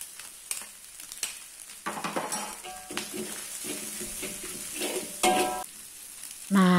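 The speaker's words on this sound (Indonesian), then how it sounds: "Nah, kol ini juga kita tumis sampai layu." Cabbage stir-fries in a pan for fried rice noodles with yellow spice paste, giving irregular spatula clatters and scrapes over a soft, steady sizzle, with a few louder knocks toward the end and no voices.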